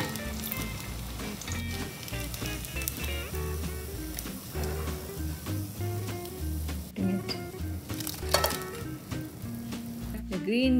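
Thick green gram dal fritter batter frying in hot oil, a soft continuous sizzle with a few light pan clinks, sitting under steady background music.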